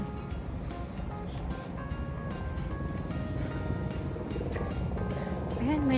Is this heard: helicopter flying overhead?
yes